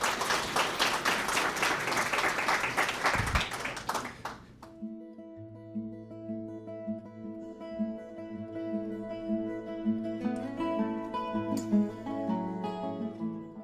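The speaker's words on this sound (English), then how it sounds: "Again, a nice round of applause for Janice." An audience at an awards celebration applauds for about four seconds before the clapping cuts off, and soft sustained musical tones continue alone afterward.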